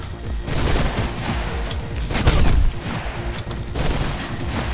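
Enemy gunfire in Mirror's Edge comes as a sustained, loud fusillade of rapid shots with heavy booms at its peak, continuous throughout.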